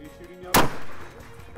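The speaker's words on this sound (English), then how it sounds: "First shot." A single long-range rifle shot fired in extreme-range target practice at rock chucks, one sharp, loud crack with a rolling boom that trails away outdoors.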